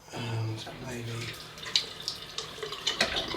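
Water pours onto a Nakayama Hon Suita sharpening stone in a steady trickling splash, followed by wet scraping and dripping close by, with a voice talking over the start.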